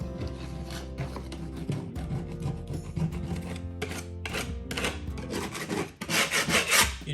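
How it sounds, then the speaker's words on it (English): A tool scrapes down the surface of a drywall patch along its edge in close, steady rasping strokes, ending in a few louder, harsher passes, with no voices. "Scrape it down."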